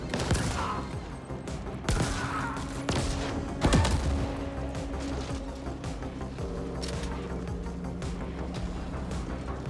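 Pistol fire in a video game, with sharp shots and crashes scattered across the stretch over a dense layer of game effects and a low droning background.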